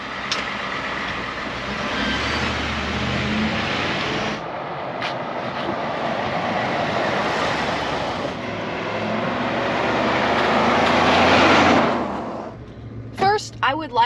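A 2018 Ford F-150 XLT with a Rough Country lift and start-stop feature drives along, its engine and road noise a steady broad rumble that swells and fades, with a brief clatter near the end.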